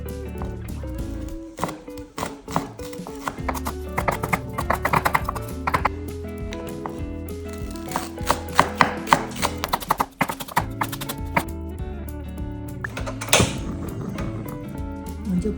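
A knife chopping vegetables, including a red chili pepper, on a cutting board for Korean soft tofu stew, with a steady run of crisp taps in uneven bursts and faint kitchen sounds in between.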